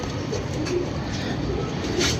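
Pigeons coo softly in a loft over a steady background hiss, with a few faint low calls and a light rustle, no voices present.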